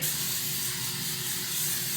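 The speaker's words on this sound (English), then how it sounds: "while it's shaking, I'm gonna go ahead and add this spray" A steady, continuous hiss of an aerosol spray can held close, unbroken for the full two seconds.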